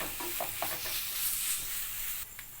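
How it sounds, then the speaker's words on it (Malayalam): Steady dry sizzling and scraping of grated coconut being stirred and roasted in a hot pan, close by, with a few soft clinks and no talking. "ഇപ്പം നമ്മൾ തേങ്ങ വറുക്കുന്നത് ഏകദേശം ഒരു ഗോൾഡൻ കളറായി വരുന്നുണ്ട്"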